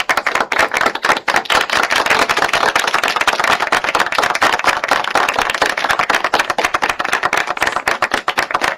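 Sustained crowd applause at a World Food Safety Day and MSMEs Day ceremony, a dense, steady wash of many hands clapping for nearly nine seconds with no pauses.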